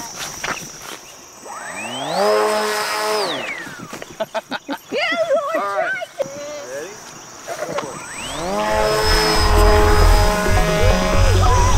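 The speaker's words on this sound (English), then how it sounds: "The airplane did fly, it flew well" A remote-control jet plane whines as its engine pitch sweeps up to a steady high tone, eases, then climbs again to a loud close roar, with brief speech in between.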